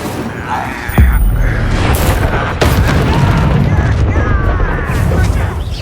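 A fire spell cast in the Hogwarts Legacy video game bursts out as a loud booming blast, then a sustained roaring rush of flame and combat effects.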